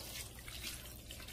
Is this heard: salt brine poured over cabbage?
yes